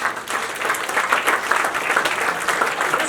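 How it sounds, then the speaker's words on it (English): A room full of people claps together at the start of a group energy session, a dense, steady wash of applause that holds for about three seconds with no voices over it. "So the final clap before we begin this session."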